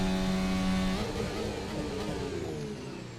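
Engine of an F1 race car in the F1 2025 game at the Spanish Grand Prix: a loud, steady high-pitched whine that holds, then drops and sweeps back through shifting tones as the car pushes on, with no talking.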